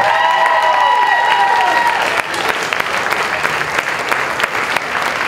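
A comedy fundraiser crowd bursts into loud applause and some cheering for a comedian. A ringing tone sounds over the first two seconds, then the clapping continues dense and close.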